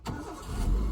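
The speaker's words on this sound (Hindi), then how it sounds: "ये हो गया गाड़ी स्टार्ट।" A car engine cranks over with the key and catches, rising into a steady low rumble that grows louder toward the end, heard up close with no talking.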